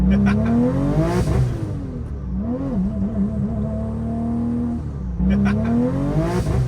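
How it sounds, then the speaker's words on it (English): A Porsche 911 Turbo accelerates hard from first gear, its engine loudly revving up with rising pitch, briefly easing around the limiter, then climbing again in close, continuous drive-by style bursts. "One thing I haven't done yet, and what better time than now, is got on it from first gear."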